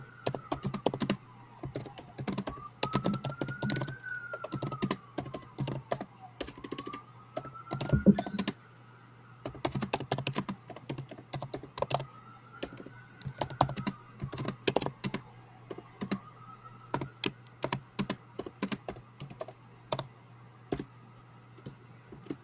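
Rapid typing on a computer keyboard during a data science mock interview, close, irregular clusters of clicks and key taps with short pauses over a low steady hum and a faint wavering tone.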